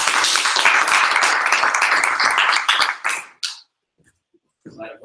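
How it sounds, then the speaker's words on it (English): An audience at a Manchester entrepreneur social applauds a speaker with dense, loud clapping that mixes with cheering voices and then cuts off abruptly into near silence before faint talk returns. "put your hands together and give a warm, wondering applause to Sam Jones"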